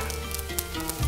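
Liver kebab with red pepper sizzling steadily on a charcoal grill, Tashkent-style jigar kebab, a close, continuous crackling hiss with small pops and no talk.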